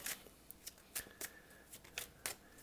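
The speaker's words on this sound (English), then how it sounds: "while I may be shuffling" Tarot cards being shuffled by hand, close and quiet, in a series of short, crisp riffling bursts spaced irregularly with soft pauses between them.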